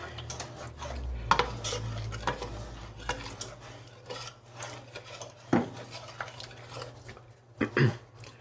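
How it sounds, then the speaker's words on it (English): A spoon stirs spices into a pot, scraping and clinking against the metal in irregular strokes up close, with a low steady hum beneath. "I'll give that a good stir in."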